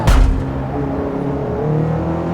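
Vauxhall Corsa engine in the Forza Motorsport racing game on a circuit, a loud burst at the start that settles into a steady droning hum with low tonal engine lines for a couple of seconds.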